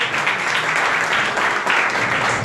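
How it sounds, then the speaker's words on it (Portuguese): A congregation applauds mothers at a Mother's Day church service, a dense, even wash of many hands clapping that holds steady throughout. "E uma salva de palmas para todas as mães"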